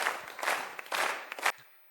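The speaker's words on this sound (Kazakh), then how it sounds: "Шапалақ." Audience clapping at a Kazakh wedding celebration, a few short bursts of applause rising and falling over under two seconds, moderately loud, then fading out.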